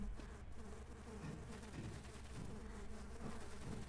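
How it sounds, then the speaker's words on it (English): Swarm of bees buzzing in the Half-Life video game, a dense continuous insect drone with faint rumbling underneath, steady from start to finish. "spawn infinite bees?"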